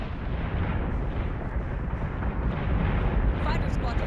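Secondary battery guns firing aboard a battlestar in the space combat game Battlestar Galactica: Deadlock, a dense, continuous rumbling barrage of booming shots that stays loud throughout, with voices talking over it.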